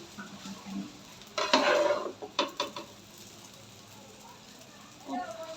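Cooked rice for restaurant-style chicken fried rice is scooped out of a pot, with a burst of scraping and clinking in the middle followed by a few sharp knocks, then a quieter stretch before a brief voice.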